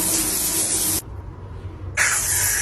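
A jewelry cleaner gives two loud, close spray bursts of about a second each, with a short quiet gap between them.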